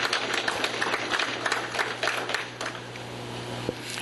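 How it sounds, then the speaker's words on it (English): Scattered clapping from an audience at a union meeting, light and uneven, with sparse individual claps and a steady low hum underneath. "let's remember that by giving them a round of applause"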